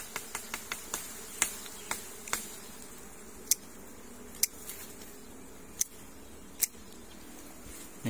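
Bees at a hive nest in a yard, with scattered sharp clicks and ticks over a faint insect hum and quiet outdoor background, no voices.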